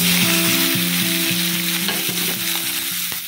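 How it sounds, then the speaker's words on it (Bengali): Beans, carrots and potatoes sizzling in hot oil in a wok for vegetarian chowmein, a loud, steady crackle close by with repeated scraping and stirring strokes in a regular rhythm, no voices. "এবার আমার তেল গরম হয়ে গেছে, তো আমি এই সবজিগুলো কড়াইয়ে দিয়ে দেবো।"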